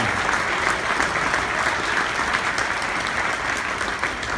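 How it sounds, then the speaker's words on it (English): Dense, steady audience applause fills a hall at the Good Design Awards 2016 ceremony, a continuous wash of many hands clapping at an even volume from start to finish, with no voices standing out. "Please give them all a round of applause and thank them for their support all tonight."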